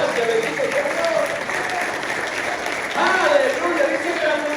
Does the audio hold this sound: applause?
yes